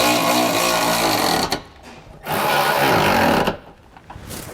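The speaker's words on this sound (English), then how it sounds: "we're gonna grab our 16 millimeter socket" Nuts on a Curt trailer hitch receiver on a 2016 Mercedes-Benz GLE driven with a 16 mm socket on a power tool: two loud, close whirring bursts, each a second or more, with a short quiet gap between, no talk.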